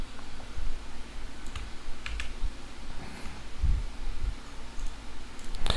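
Computer keyboard clicks as a shortcut is pressed in Microsoft Word, a few scattered close taps over a quiet background hum.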